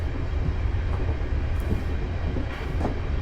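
A simulated train accelerating in Train Simulator 2016, a steady low rumble with rhythmic clickety-clack of wheels over rail joints and occasional faint squeaks, continuous and fairly loud.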